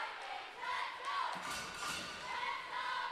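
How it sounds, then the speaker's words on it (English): Crowd noise at a bantam hockey tournament final at Marwood Center Ice, a steady broad murmur of spectators with a few faint thuds, heard at moderate distance with a voice talking over it. "You can hear the crowd now."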